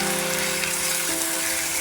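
Ginger-garlic paste sizzles in hot oil with cumin in a pan while cooking spicy okra, a dense, steady, close frying hiss throughout.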